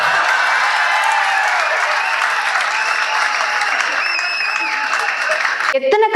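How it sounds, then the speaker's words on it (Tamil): Loud audience applause filling the hall at a political party's anniversary rally, sustained dense clapping with crowd noise and faint voices throughout, ending in a sharp burst of cheering. "அரங்கம் அதிர்ற அளவுக்கு அந்த கைத்தட்டல் வந்துச்சு"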